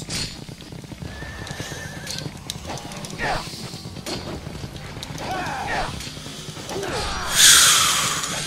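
A horse in the video game Ninja Gaiden Sigma whinnies and snorts amid rhythmic hoof clops and game effects, with a player talking over the action and a loud burst near the end.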